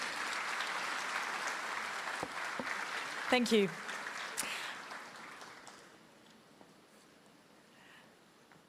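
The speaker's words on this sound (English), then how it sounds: "Ladies and gentlemen, round of applause." Audience applause at the Africa CEO Forum 2025 in Abidjan fills the hall, with a voice speaking over it briefly before the clapping gradually fades away.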